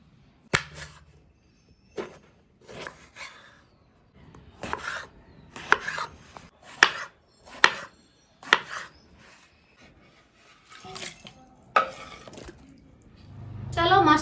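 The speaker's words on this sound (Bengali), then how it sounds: "চলো বেগুনটাকে আগে কেটে নিই।" A knife chops eggplant on a cutting board in a home kitchen, with sharp separate knocks at uneven intervals and quiet gaps in between, close and clear.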